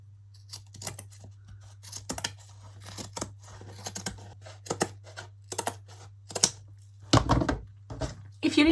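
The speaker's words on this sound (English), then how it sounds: "Out with the scissors and trim it off." Sharp snipping of scissors cutting through coarse hessian fabric, a series of quick irregular cuts close to the microphone, with a brief burst of rustling near the end.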